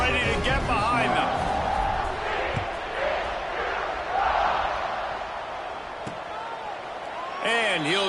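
A large college football stadium crowd at a TCU versus Kansas State game roars continuously before kickoff, with whoops rising and falling throughout, while a commentator talks over the noise.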